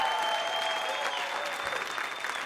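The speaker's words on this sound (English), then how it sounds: "Give yourselves a round of applause" Applause from a comedy club audience, a continuous dense patter of clapping at steady moderate loudness through the whole stretch, with a faint tonal hum running underneath.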